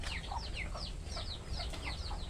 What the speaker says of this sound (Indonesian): Wah, ini ayam saya ini.